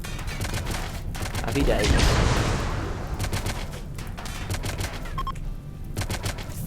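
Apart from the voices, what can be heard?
turret gunfire, Rimworld video game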